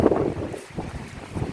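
Strong outdoor wind buffets the microphone in gusty, rumbling blasts, loud and close, with no voices.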